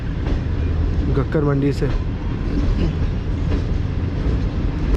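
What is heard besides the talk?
Tezgam train departing from Ghakhar Mandi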